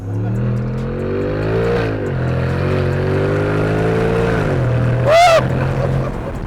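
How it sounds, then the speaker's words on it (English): A loud hot rod engine revs and drops in pitch with a steady low rumble on a track, then a sharp high whine sweeps past near the end. "I love the sound of the hot rod."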